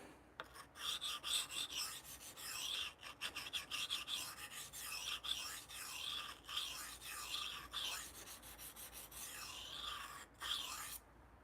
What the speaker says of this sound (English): Yeah, I gotta remove that burr.